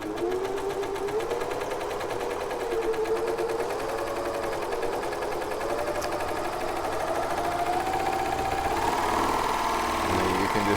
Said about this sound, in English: And then you can just sew along your strap like that.